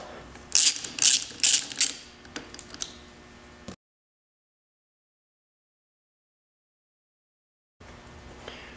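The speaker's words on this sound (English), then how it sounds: "I have a 3/8 ratchet with a 4mm hex socket on it, and I'm just going to take out these two bolts on the top" A 3/8 ratchet with a 4mm hex socket clicks while removing bolts on a Yamaha YFZ 450 quad, a few quick loud ratcheting bursts close up, then silence and faint handling noise at the end.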